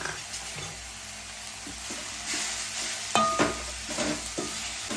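Grated coconut and chana dal sautéing in a pan and stirred now and then: a steady, fairly loud sizzle with a few sharp spatula scrapes and knocks toward the end, no voices.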